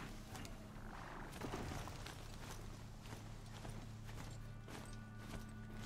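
A horse galloping in the video game Horizon Zero Dawn, with quiet rhythmic clip-clop hoofbeats and faint creaks over a low background hum, no voices.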